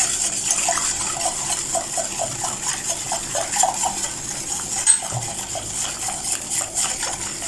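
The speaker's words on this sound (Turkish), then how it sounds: "Toz şekerimizi de ekleyip iyice çırpıyoruz." Salep and sugar being whisked by hand in a bowl for homemade ice cream, a steady run of quick metallic scraping taps against the bowl, close and fairly loud with no voices.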